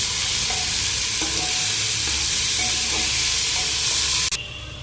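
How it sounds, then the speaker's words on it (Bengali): Greens and potato being stirred into simmering dal in a pot, a steady loud sizzle and hiss with faint scraping stirs throughout, cutting off abruptly near the end. "এবার ডালের সাথে শাক আর আলুটা মিশিয়ে নেবে।"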